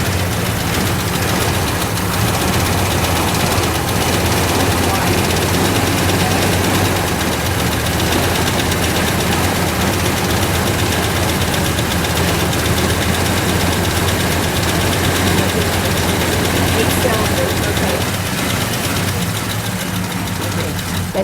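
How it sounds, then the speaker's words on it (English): Classic car engine idling with its hood up at an outdoor car show in Oakwood, a steady low rumble running throughout, with excited people talking nearby over it. "We're just going to get a picture of the engine as it's running."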